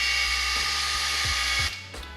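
A drill turns the engine gear on a blown 7M Supra engine during timing belt work, giving a steady, close mechanical whir that drops away near the end.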